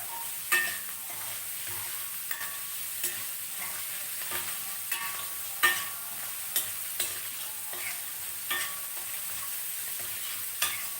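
Broad beans and spices sizzle and fry in a pan, a steady hiss broken by regular scraping stir strokes of a spoon about every second, close and fairly loud with no talking.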